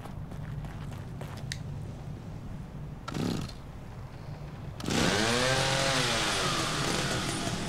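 Muffled thumps and a brief rumble, then a chainsaw in The Evil Within revs up loudly and keeps buzzing, its pitch sweeping up and down as the motor surges.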